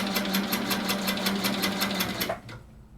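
Sewing machine stitching a free-motion quilting petal, with a fast, steady needle chatter that runs for over two seconds and then stops abruptly, leaving quiet room tone.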